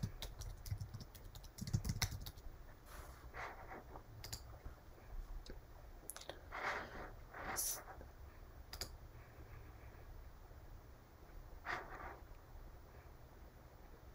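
Computer keyboard typing comes in scattered short bursts of soft clicks, close and fairly quiet, while an API test suite is being set up in a quiet room.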